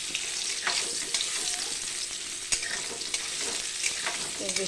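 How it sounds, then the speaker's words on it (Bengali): Potatoes sizzle steadily in a pan while being stirred, with scraping knocks and small pops scattered through the close, continuous frying and no talking. "আলুগুলো ভাজা হয়ে গেছে"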